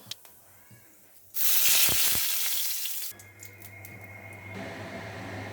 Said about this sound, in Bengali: ফোড়নের জন্য আমি কড়াইতে সাদা জিরে ও তেজপাতা দিয়ে দেব।